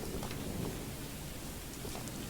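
Steady, heavy rain in the horror video game Choo-Choo Charles, a dense, constant hiss with low rumbling beneath, heard alone with no talking.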